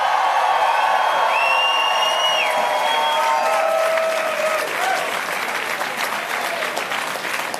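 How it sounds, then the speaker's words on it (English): A crowd at an LGBT Pride celebration gives loud, sustained applause for police officers, with scattered cheers and whistles rising above the clapping before it slowly thins out. "I want a special and thunderous applause for the men and women in blue"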